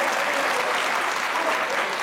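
A crowd applauds at a talk, a brief dense burst of clapping that stays loud and even for about two seconds.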